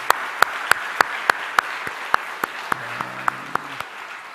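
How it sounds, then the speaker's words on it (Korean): Church congregation clapping together in slow, regular unison beats at moderate distance, about a dozen even claps, with a low held organ or keyboard note entering partway. "하나님께 영광의 박수를 한번 드릴까요?"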